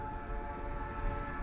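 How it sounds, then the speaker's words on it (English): A train passes in the video game Night in the Woods, heard as a continuous low rumble with a sustained horn-like tone over it, moderately distant and alone. "I didn't realize how much I missed the sound of that train."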